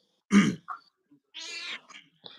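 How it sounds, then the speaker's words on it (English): An indoor cat, sixteen years old, lets out a few short, close meows and chirps separated by silent gaps, with one brief rough sound that resembles a cough. "We got a cat over there now."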